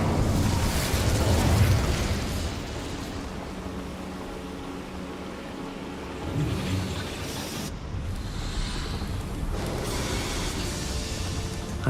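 An Incendio fire spell cast in a video game, a loud roaring eruptive burst of flame that fades into a sustained crackling rumble, with a second swell of fiery noise later.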